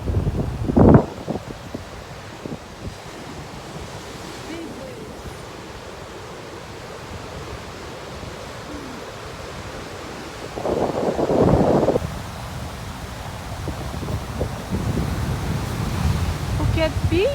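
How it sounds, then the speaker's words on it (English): Big waves at high tide on a Phuket beach wash in as a continuous rushing surf, with a louder surge midway. Wind buffets the microphone throughout. "I guess this must be high tide, but it's really big waves here."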